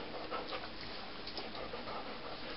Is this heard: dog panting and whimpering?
yes